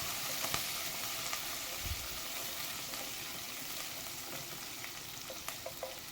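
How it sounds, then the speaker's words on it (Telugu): Curry leaves and tempering spices fry in oil over a low flame for lemon rice, giving a steady, close sizzle throughout with a few light stirring taps and no talking. "ఇవి ఒక 2 to 3 మినిట్స్ దాకా లో ఫ్లేమ్లోనే వేయించుకోవాలండి."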